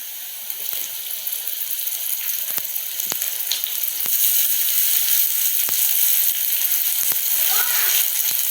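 Tomatoes go into a pan of onions that have turned reddish, and a steady loud sizzle fills the pan with a few sharp clinks and scrapes along the way, heard alone without talk.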